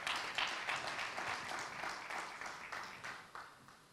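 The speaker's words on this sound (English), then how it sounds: "One more time, a big round of applause." Audience applause at the MTN Rwandacell listing ceremony on the Rwanda Stock Exchange, a faint wash of many hands clapping with a few louder claps, slowly tapering off.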